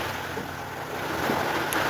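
Large sea waves wash continuously in a broad, steady roar mixed with wind buffeting the microphone, loud and close throughout.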